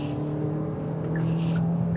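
A 2025 Hyundai Sonata accelerating at full throttle onto a freeway, heard from inside the cabin as a steady engine drone with a rising hum under road noise, fairly loud and continuous.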